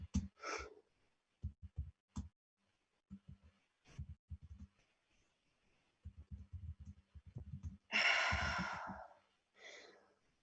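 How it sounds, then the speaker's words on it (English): Heavy human breaths, in and out, in a quiet art installation setting: soft repeated low puffs through the clip, then one loud, noisy exhale near the end followed by a shorter breath. "Air is sucked into the lungs, into the vacuum. I am breathing."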